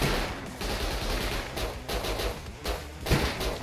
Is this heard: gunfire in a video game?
yes